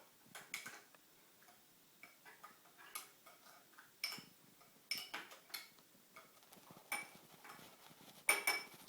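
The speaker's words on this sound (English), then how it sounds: "give it a really good stir for this one" Gelatin egg-substitute mixture stirred hard in a container, making quiet irregular ticking and clinking taps of a utensil against the sides, close but faint.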